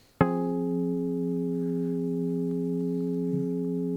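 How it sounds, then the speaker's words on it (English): A sustained synth tone treated with RC20 reverb and a wobble effect starts abruptly and rings on steadily, clean and harmonic, with a slight pitch waver near the end. "It's also got this wobble on it."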